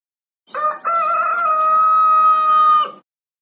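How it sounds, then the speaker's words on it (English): A single loud rooster crow, a short opening note followed by a long drawn-out call, close and alone against silence. "Rooster."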